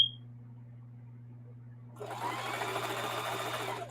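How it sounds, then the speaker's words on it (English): A sewing machine back-stitching along the bottom of a camo tote bag starts up after about two seconds of low hum, then runs steadily and close for the rest. "So now I'm sewing the bottom of it and back stitch and go forward"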